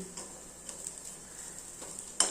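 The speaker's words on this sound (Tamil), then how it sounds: "கேரட் எல்லாம் துருவி இப்போ நான் வதக்கிக்கிட்டு இருக்கேன்" Carrot grated into a pan and sautéed in oil with mustard seeds, urad and chana dal, onion, green and dried chillies, ginger and curry leaves, giving a soft steady sizzle with light stirring scrapes and a sharper clatter near the end.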